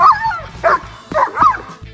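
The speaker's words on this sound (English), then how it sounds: "a random dog shows up and starts barking at us" A dog barks in a few sharp, close bursts, yips and whimpering whines mixed between the loud barks, with no other voices.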